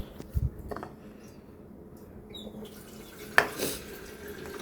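Pots and utensils in a hotel kitchen in Tokyo give a couple of sharp clanks and a faint clatter against a quiet room background.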